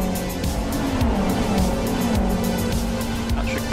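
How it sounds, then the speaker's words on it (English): GT race cars in the Live for Speed racing game roar past in a close pack, engine notes rising and shifting as one car slipstreams another out of the final corner, loud and continuous. "Goik with a great slipstream run out of the final corner, a slipstream around Pat Hall"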